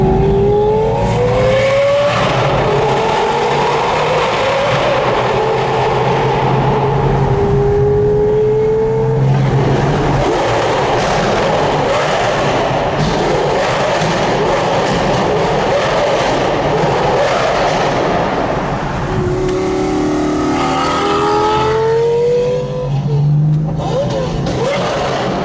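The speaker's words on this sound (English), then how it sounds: "We're gonna follow Mohammed's Gallardo, get a few shots." A Lamborghini Gallardo drives past and revs, with rising engine tones that climb, fall away and return near the end, loud and close amid street noise, with some talk mixed in.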